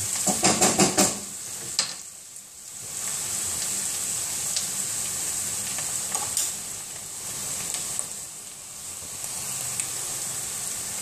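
Onion, garlic and oil frying as the base for a cholent, a steady sizzle running throughout, with spoon scrapes and clatters at the start and occasional stirs breaking through, close and alone.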